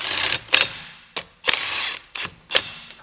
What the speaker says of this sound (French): Un petit coup de clé à choc qui n'est pas là pour serrer la roue